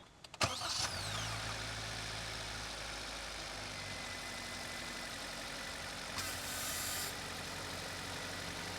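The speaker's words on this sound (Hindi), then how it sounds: "अब मैं एक बार आपको स्टार्ट करके दिखाता हूँ दोनों इंजन्स को" A 2024 Maruti Baleno Zeta hatchback engine cranks briefly and catches, then settles into a steady, even idle that hums on without a break; no one speaks.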